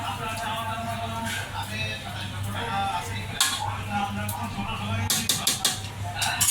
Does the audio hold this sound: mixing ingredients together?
yes